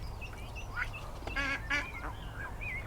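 Ducks on a fishing lake at an angler's peg give several loud honking quacks in short bursts over a steady low background rumble, close by.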